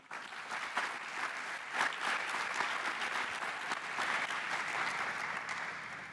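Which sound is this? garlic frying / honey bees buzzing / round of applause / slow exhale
round of applause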